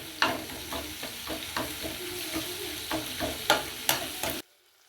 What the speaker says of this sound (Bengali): সব একসঙ্গে সব মিশিয়ে নিচ্ছি।